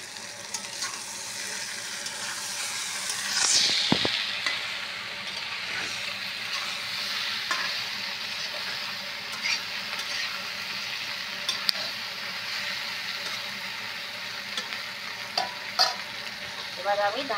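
Malabar spinach stems sizzle and fry in a hot pan while being stirred, a steady close crackling hiss that swells briefly near the start and stays even throughout, with no talking.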